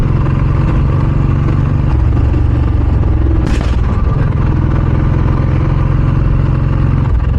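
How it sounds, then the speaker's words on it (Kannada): A motorcycle in Manipal idles with an altered exhaust note, a loud, close, continuous engine drone with a throbbing low pulse that shifts slightly in pitch midway, no voices over it. "ನಂದು ಬೈಕ್ ಸಡನ್ಲಿ ಸೌಂಡ್ ಚೇಂಜ್ ಆಯ್ತು ಮಾರೆ"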